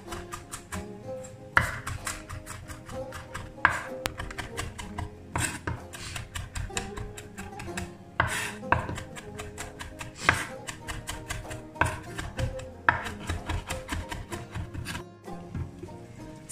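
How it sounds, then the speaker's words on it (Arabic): Garlic is chopped into small pieces with a knife on a board, giving a steady series of crisp, close taps in an uneven rhythm, some louder strikes standing out, with no one talking. "غادي نجيب الثوم كذلك غادي نقطعه مع الربع، هي غادي تقطع الى قطع صغيره بهذا الشكل هذا"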